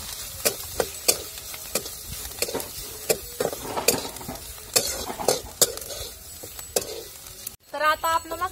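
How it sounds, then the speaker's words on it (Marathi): Masala frying in oil in a kadhai sizzles softly while a spatula scrapes and clinks against the pan in irregular stirring strokes, close and clear, with a brief voice near the end. "आता आपण लगेच कढईमध्ये तेल टाकून आणि मसाला चांगला परतून घ्यायचा"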